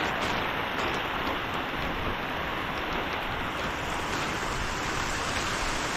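Heavy typhoon rain pours steadily and densely, a continuous close hiss of drops hitting surfaces with no letup and no voices.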